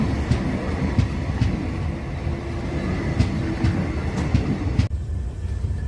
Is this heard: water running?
no